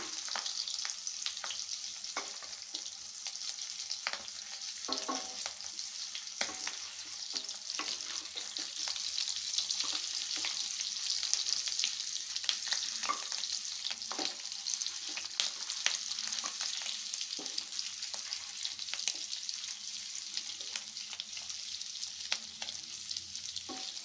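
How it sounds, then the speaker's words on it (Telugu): Stuffed bitter gourds fry in a pan, giving a steady bright sizzle with scattered pops and crackles as they are turned, close up and continuous for over twenty seconds, with no talking. "కాకరకాయలన్నిటిని ఇలా టర్న్ చేసుకుందామండి."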